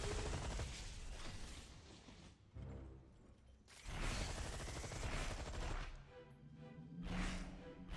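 Dense, rapid bursts of video game gunfire with mechanical clatter fill most of the stretch, broken by brief lulls, loud and continuous like a firefight.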